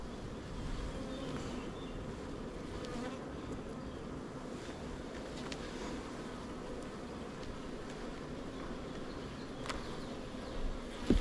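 Honey bees hum in a steady, dense drone from an open hive during a spring inspection, continuous and fairly faint, with no voices and a few soft knocks near the end.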